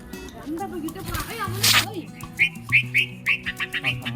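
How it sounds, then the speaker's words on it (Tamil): Sparrows chirp in a series of short, sharp calls as parent birds arrive, the calls coming close and fairly loud over background sounds and a voice. "அவங்க அம்மா அப்பா குருவி வந்துருச்சு"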